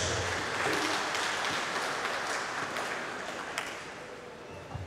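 A crowd of Simba club members claps for the CEO at an indoor members' meeting, a broad wash of many hands that gradually fades, with a few isolated claps near the end.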